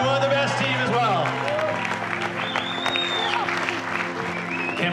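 An audience at the Nazaré tow surfing challenge awards on stage gives the competitors a dense round of clapping and cheering, loud and sustained for the whole stretch, with whistles rising over the crowd.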